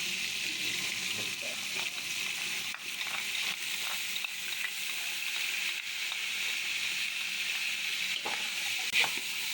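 Steady sizzling of tomato, ginger and garlic paste frying in a hot pan, with occasional soft scrapes and stirring sounds, close and continuous.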